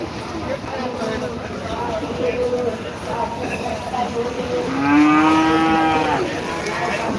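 A crowded cattle market at Rajshahi City Haat, with a steady murmur of voices and a loud, drawn-out cow moo rising close by midway through, while someone talks over the scene.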